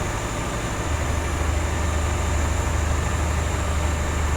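An HST train rolls past in Train Simulator 2017, a steady loud rumble with a deepening low drone as it draws alongside and continues by, no talk over it.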